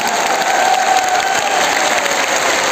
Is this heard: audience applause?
yes